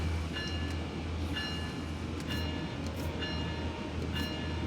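Train horn in Train Sim World 6 on the CN Ontario line, heard from inside the locomotive cab: repeated muffled horn blasts with steady low engine rumble beneath, no talking.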